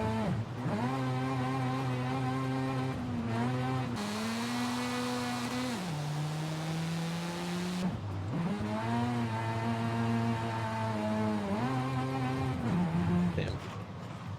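A Mazda RX-7 in a racing video game revs through a run, its engine whine climbing and dropping steadily with gear shifts, loud and continuous throughout.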